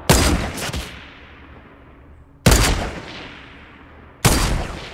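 Three loud, sharp gunshots in a Fortnite match, each with a long decaying echo, spaced about two seconds apart, with no talk over them.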